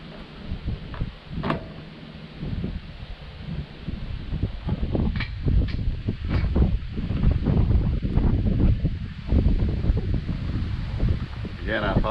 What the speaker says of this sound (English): Again, I apologize for the wind.